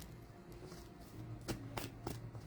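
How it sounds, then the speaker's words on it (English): A deck of tarot cards being shuffled by hand, soft riffling and several sharp card snaps in quick succession, close but fairly quiet in a calm room. "Shuffling up a little bit. Some more."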